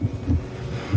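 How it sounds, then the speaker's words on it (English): A dramatic heartbeat sound effect from a gothic soap opera thumps low and heavy in a repeating lub-dub rhythm, about three beats in quick succession, with nothing else beneath it. "The heartbeat. The heartbeat."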